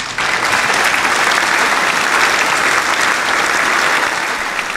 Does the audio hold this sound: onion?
no